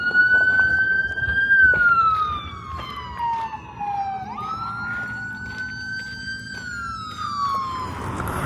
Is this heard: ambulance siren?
yes